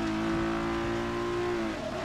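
Ferrari engine revving in the racing game Forza Motorsport 6, a loud steady high-pitched engine whine holding pitch and dipping slightly near the end, with no voices over it.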